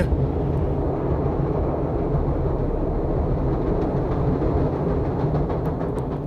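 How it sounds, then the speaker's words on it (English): A loud, steady rumble of a train rolling along the tracks, continuous and close, with a broad low roar and faint metallic squeaks. "Train track again, man. Train track again."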